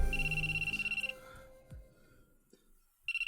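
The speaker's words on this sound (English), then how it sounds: "And right then my phone starts to ring." A phone ringing in a visual novel video game: a repeated electronic ring tone pulses rapidly for about a second, fades into a quiet background of game music, then starts ringing again at the end.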